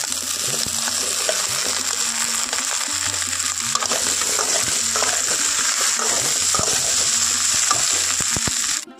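Okra and well-fried onions sizzle loudly in a pan, a constant close crackle broken by clicking stirs and scrapes, with a sudden stop at the end.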